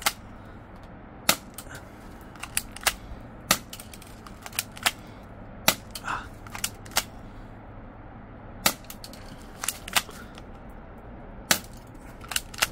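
A spring-powered airsoft rifle cocked and fired, giving a series of sharp, close, isolated snaps and clacks spaced irregularly, with quieter mechanical clicks between them.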